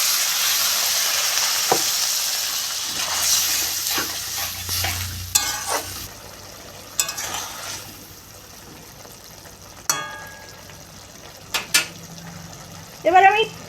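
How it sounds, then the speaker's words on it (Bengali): Water poured into a pan of sizzling sautéed spices for a banana-flower ghonto, a loud hiss at the start that settles into quieter bubbling, with stirring clinks and scrapes scattered through. "এবার আমি জল দিয়ে দেবো।"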